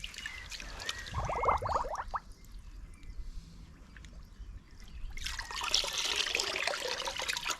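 Water flushing out of a boiler heat exchanger, trickling and splashing in uneven bursts, with a gurgling pour early and a louder rushing spill toward the end, close by and without talk.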